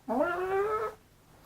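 A single kitten meows once, close and fairly loud, a short rising-then-falling cry followed by quiet.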